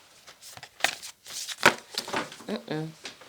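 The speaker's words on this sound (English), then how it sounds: "the cards are so alive when I shuffle them" Tarot cards shuffled by hand, a soft papery riffling that comes in bursts close to the microphone, mixed with faint voice-like sounds and light handling noise.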